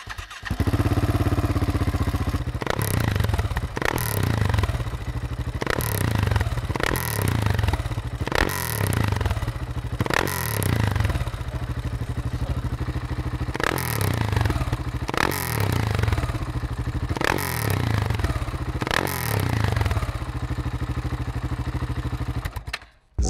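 A KTM 690 SMC R single-cylinder motorcycle with an aftermarket Leovince or Remus exhaust revs repeatedly, about a dozen sharp loud throttle blips over a steady close idle.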